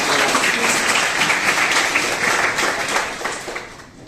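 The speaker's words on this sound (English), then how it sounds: "A huge round of applause for our guests." A seminar audience applauds its guests with a sustained, dense round of clapping that holds steady, then thins and fades toward the end.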